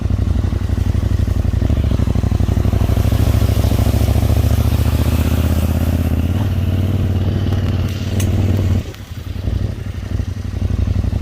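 A Husqvarna Norden 901 motorcycle rumbles loudly in off-road mode along a dirt track, its engine droning close and steady with clatter over rough ground, then easing off near the end.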